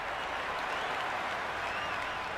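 A large crowd at a Brisbane Heat versus Hobart Hurricanes T20 cricket match applauding and cheering steadily after a boundary, a dense, even wash of clapping from the stands.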